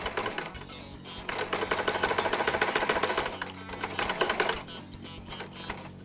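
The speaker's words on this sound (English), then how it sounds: "After you've sewn the top part of the waistband, right here, you're going to want to sew the bottom." A sewing machine stitches the waistband of a jean-collar sweatshirt, its fast steady needle chatter running in bursts with brief slowdowns and pauses between seams, close and clear with no talking.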